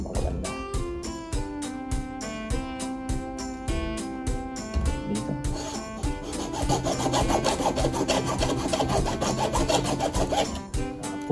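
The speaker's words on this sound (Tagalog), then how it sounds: "Saka lalagariin natin. Kailangan lagariin matigas na." A hand saw cuts through a cured Iberian ham (jamón ibérico) in steady, rhythmic back-and-forth strokes, close and continuous, with a rasping texture throughout.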